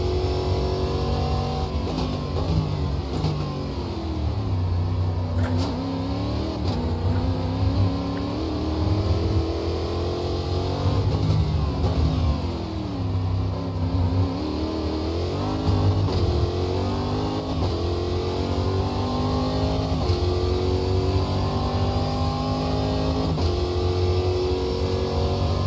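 Stock car engine in the Automobilista 2 racing game, Stock Car Brasil 2019, revving loud and close with repeated rising and falling sweeps as it shifts through gears, continuous for the whole stretch.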